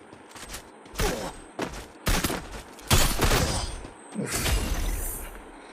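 Gunfire in the mobile battle royale game Free Fire, with several loud bursts of rapid shots in quick succession, separated by brief pauses and growing denser toward the end.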